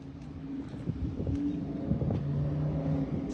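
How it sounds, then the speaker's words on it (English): A loud car drives out of an alley, its engine rumbling low and uneven, rising slightly mid-way while passing close by, with no talking. "Is that loud car driving out right now?"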